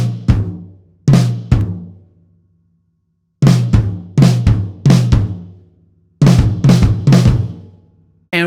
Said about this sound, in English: I'll play these again as left-hand flams. These flams are used as part of a fill